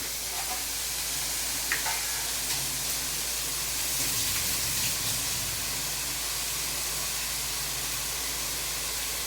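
Onions sautéing with a pinch of salt in a pan for tomato chutney to go with chapathi, giving a steady, fairly soft sizzle and hiss that runs throughout with no one talking.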